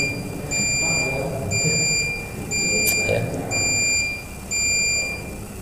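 An electric bell rings in long, steady bursts, sounding about five times with short gaps between them, over a low, noisy room background.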